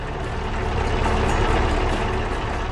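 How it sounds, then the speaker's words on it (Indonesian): A red tractor engine rumbling steadily in a farm field, a continuous low, dense drone with a slight throbbing pulse, close and unbroken. "Traktor merah menggigil di tengah kebun yang penuh semangat, mesinnya berdentum dengan riang."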